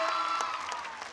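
A short burst of hearty applause from a crowd at a primary school annual day function as a student receives an award, steady clapping that fades slightly toward the end.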